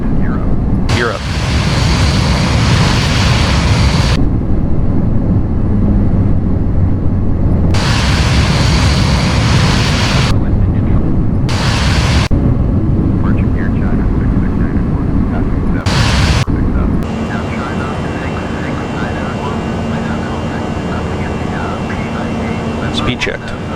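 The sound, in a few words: airliner engines during climb after takeoff, gear up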